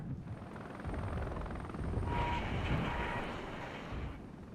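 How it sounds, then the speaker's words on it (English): Helicopters in the war game Regiments drone steadily with a thick rotor rumble that swells slightly midway, loud and continuous with no talk. "Where did those helicopters go?"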